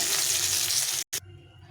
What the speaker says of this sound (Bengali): মাছটা ভাজা হয়ে গেছে, উঠিয়ে নেব।